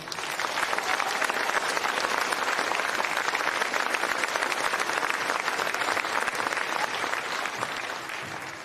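Loud, sustained applause from a large audience at an elementary school Veterans Day program, steady clapping throughout with a slight fade at the very end.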